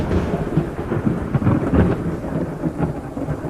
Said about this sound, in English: Lightning flashed suddenly, illuminating his entire room. It was soon followed by a deafening boom.